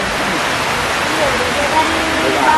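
Steady rain falls in a village in Lombueya, forming a loud, even hiss of broadband noise that continues throughout, with faint speech partly mixed in.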